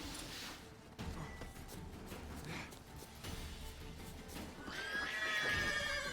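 Faint horse whinny and snorting from Roach in The Witcher 3: Hearts of Stone video game, a rising neigh near the end over low game ambience and soft hoof thuds.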